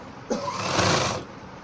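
A sewing machine stitching the hem of a ladies' pant, one steady close run of motor whir for about a second with no talk.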